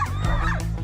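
A sea rescue dog barks and whimpers during water-rescue training on an Italian beach, a short close burst of yips over a steady low rumble of background noise.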